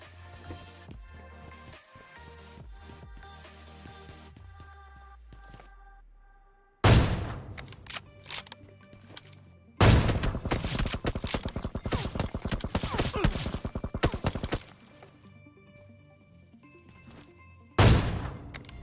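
Automatic gunfire in a PUBG-style shooter video game: a quiet tonal opening, then loud sprays of rapid rifle shots, with a long dense burst in the middle and another sharp burst near the end.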